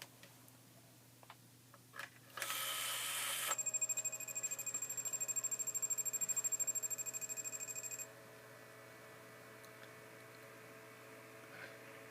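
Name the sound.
Brinsea Mini Advance egg incubator startup routine rotating the motor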